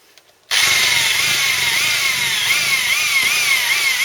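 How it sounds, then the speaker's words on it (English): A power drill whines loudly and continuously as it bores through a quarter-inch-thick piece of metal, its pitch rising and dipping slightly under load, close up with no talking. "all you do first of all, you're drilling through a 1/4 inch."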